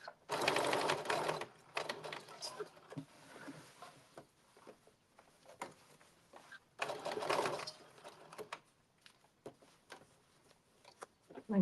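A sewing machine runs in two loud bursts while understitching the undercollar of a blazer, with quieter ticking and handling between the runs and a voice talking faintly at times.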